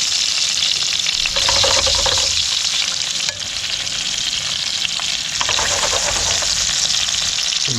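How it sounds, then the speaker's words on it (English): Whiting fillets fry in hot oil with a loud, dense, continuous sizzle that briefly dips and then swells again as more fish goes in, heard up close with no talking. "just try and put the whiting in. I don't know if the oil is hot enough yet"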